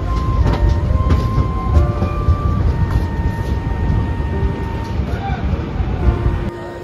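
The Howrah–Kalka Netaji Express (Kalka Mail) idles at a station platform, giving a loud low rumble with mechanical hum and a few clanks, while people talk nearby throughout.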